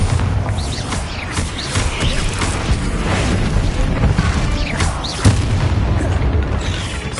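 Bombarda spell blast in the game Hogwarts Legacy during a fight with spiders: a loud, rumbling boom and crashing bursts over a dense, busy background, with a sharper hit about two thirds of the way through.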